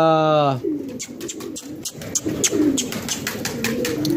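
Low, throaty pigeon coos repeat steadily through the scene, mixed with wingbeat flutters and outdoor bustle; a brief whistle-like tone opens it.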